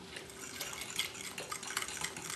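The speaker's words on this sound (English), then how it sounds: "And then you add in the nuts. And you stir it all up" A spoon stirring Coke salad made with Jell-O, cream cheese, pineapple and nuts in a bowl, a close, steady scraping and clinking that runs without pause.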